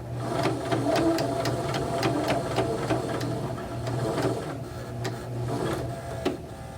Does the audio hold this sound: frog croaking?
no